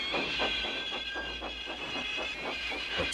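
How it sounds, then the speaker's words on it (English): Cartoon steam engine chugging and puffing in a steady rhythmic beat with hissing steam and rail clatter, loud and close for the whole stretch, with no talk over it. "Thomas pushed and puffed as hard as ever he could."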